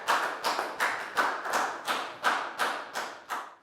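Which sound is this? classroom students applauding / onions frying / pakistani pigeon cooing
classroom students applauding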